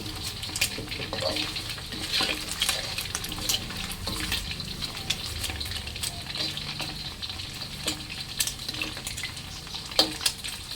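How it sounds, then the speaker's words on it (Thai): Steady crackling sizzle of sun-dried pork frying in hot oil in a hot pan, with scattered sharper pops and spatters throughout, close and moderately loud. "แนะนำว่าให้ใส่ตอนน้ำมันร้อนๆนะคะ"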